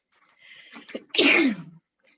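A single close, loud sneeze with a short breathy build-up and a sharp burst, followed by quiet.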